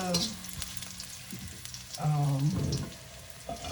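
Ginger frying with garlic and red chilies in a pan over a medium-high flame, a soft crackling sizzle with brief tonal clinks and utensil sounds, close and fairly quiet.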